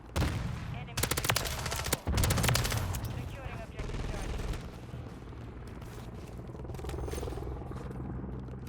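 HRM 9 submachine gun firing in Modern Warfare, loud rapid bursts of automatic fire in several volleys with a sharp crack near the two-second mark, then quieter gameplay rumble and scattered distant shots.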